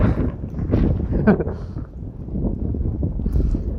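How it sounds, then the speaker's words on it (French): Wind gusting at a lake in Connemara, Ireland, on a cold morning after a night of rain: a low, steady rumble buffeting the microphone up close, with a faint voice passing through it. "Il y a du vent, mais c'est beau."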